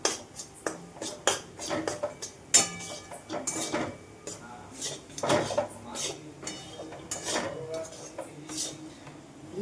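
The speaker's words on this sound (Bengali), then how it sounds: "খুব ভালো করে এটাকে নাড়তে হবে।" Gram flour being stirred into ghee in a pan, giving repeated scraping knocks and clinks of a utensil against the metal at close range, in irregular bursts with faint background noise.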